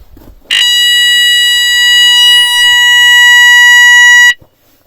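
A fire alarm device sounds loud and close during a building system test, a steady piercing electronic tone holding for about four seconds before cutting off abruptly.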